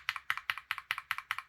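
A short, regular burst of about seven clacky keystrokes on Gateron G Pro 3.0 silver keyboard switches, evenly spaced and close, with no other sound.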